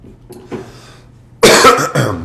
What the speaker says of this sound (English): just got to clear my throat a little